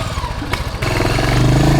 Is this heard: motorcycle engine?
yes